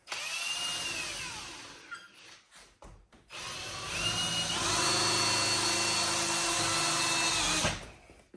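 A power drill drives screws through foam board insulation into a garage door, whirring in short bursts near the start and then in one long, loud sustained run that stops abruptly near the end.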